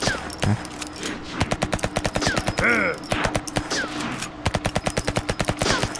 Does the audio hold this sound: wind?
no